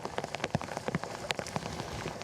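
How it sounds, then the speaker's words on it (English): Heavy rain pouring down and pattering on surfaces during a bass fishing trip, a steady dense patter with close, loud individual drops striking nearby. "rain's coming in"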